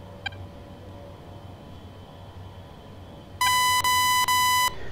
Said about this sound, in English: It's beeping at me. Oh, radar warning receiver.